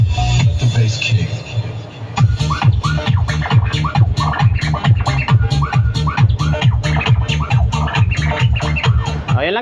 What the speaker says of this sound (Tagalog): The bass kick.